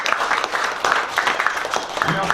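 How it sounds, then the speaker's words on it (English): Talk-show audience applauding a guest from Brooklyn, New York, a rough wash of clapping mixed with voices talking over it for a couple of seconds. "Give another round of applause for New York."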